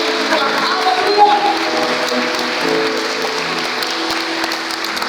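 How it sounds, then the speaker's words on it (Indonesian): Church congregation at a Sunday morning service at GPdI GAMA 45 in Pontianak clapping their hands together, a steady dense wash of applause throughout with crowd voices and faint music tones mixed in. "kita tepuk tangan yang terbaik untuk Tuhan"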